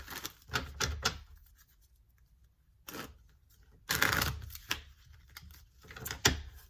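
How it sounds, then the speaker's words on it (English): Tarot cards laid out one by one on a table, giving soft, close papery slaps and shuffling rustles in a few short bursts separated by quiet pauses, with no talking. "Let me put out the rest of the cards before we get this going."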